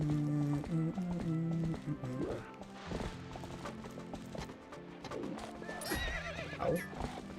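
Horse in a Zelda game, a randomizer run near Kakariko Gorge, whinnying and neighing over a steady clatter of hooves against game music, loud and close with no speech.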